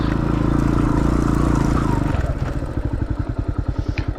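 Dirt motorcycle engine idling in a forest, a steady close drone that breaks into a rapid, even chugging pulse toward the end, with faint talk beneath.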